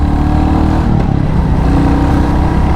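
A 2021 Royal Enfield Classic 350 motorcycle on the move: a loud, steady engine drone with a throbbing low exhaust note runs without pause, slightly rising as the rider pulls along the road.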